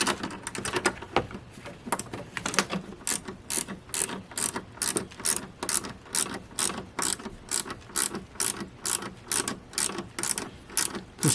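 A hand ratchet clicks rapidly and repeatedly while tightening a bolt during an alternator replacement on a BMW X5 35d, a steady run of close, crisp pawl clicks with brief pauses and no talking.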